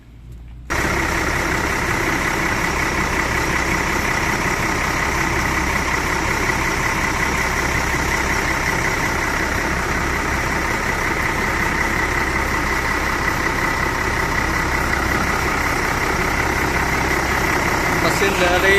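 Engine of an Aneka Jaya SR2 HD Prime coach bus idling, a steady, loud, unbroken rumble with a constant hum that starts after a short silent moment and holds level throughout.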